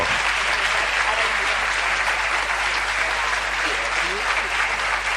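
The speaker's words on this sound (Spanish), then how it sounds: "Fuertísimo el aplauso." Sustained, dense applause from a large audience, even and loud throughout without letting up.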